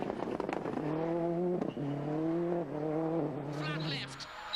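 Toyota Corolla WRC-class rally car driving hard on a narrow Irish stage, engine note rising and holding through gear changes, with tyre noise near the end and a voice talking over it.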